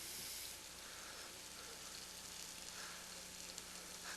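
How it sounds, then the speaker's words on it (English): Onions and peppers frying in a home kitchen pan, seasoned with dried rosemary and basil, give off a steady, dense sizzle that holds close and even throughout with no talk over it. "There's something about a kitchen with onions and peppers just frying"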